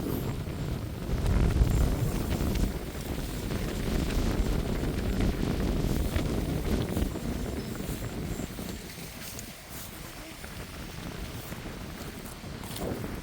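Cold, dry wind blows steadily across open farm fields during the planting season, a continuous rushing roar with low buffeting against the microphone that eases slightly toward the end, with no voices.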